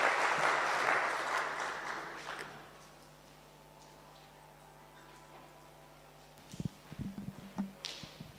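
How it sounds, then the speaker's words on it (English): Audience applause for a presenter at a youth employment conference, a loud burst of clapping that fades over about three seconds, followed later by scattered footsteps and taps. "Please clap for him as he comes."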